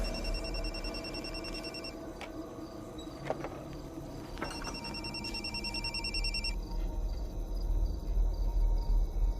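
A telephone rings inside a house in a horror drama scene, with a repeating electronic ring pattern heard from a short distance. It stops after about six seconds, leaving a low rumbling background.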